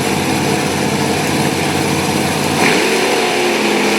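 A monster truck engine runs rough and uneven at a monster truck drag race in Sarver, Pennsylvania, a continuous loud mechanical drone that shifts pitch and swells slightly near the end.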